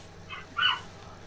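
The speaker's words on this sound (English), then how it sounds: "Sorry about the dog." A dog gives two short whimpering yips close by, the second louder, over a quiet room.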